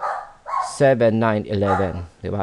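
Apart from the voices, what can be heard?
dogs barking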